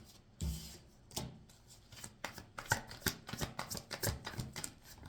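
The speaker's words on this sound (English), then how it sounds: "first we're gonna pull some cards for this 434 number" Tarot cards being shuffled and pulled by hand, quiet papery riffles and soft slaps in an irregular run, with a firmer flick near the start and denser shuffling toward the end, close and with no talk.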